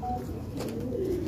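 Pigeons coo softly in a low, rolling murmur, sustained throughout against a steady background hum, close by.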